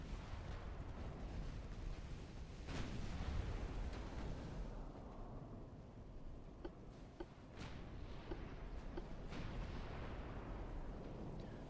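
Battleship secondary guns fire in a naval warfare game: a dense, rumbling barrage of booms with sharper cracks scattered throughout, continuous and fairly loud, with no talk over it.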